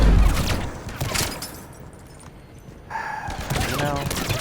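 Gunfire bursts in the video game Mass Effect 3, loud rapid shots from combat starting the clip and returning near the end, with a quieter lull in between and game voices mixed in.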